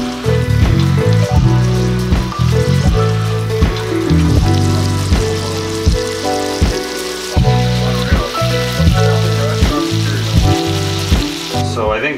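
Walleye fillets frying in Creole-seasoned butter give off a loud, steady sizzle with crackling pops, interrupted by repeated clinks and scrapes of a utensil against the pan.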